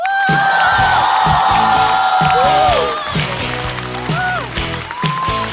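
A stand-up comedy audience claps and cheers loudly to welcome a comedian on stage, a dense wash of applause with whoops on top of upbeat walk-on music, easing slightly toward the end.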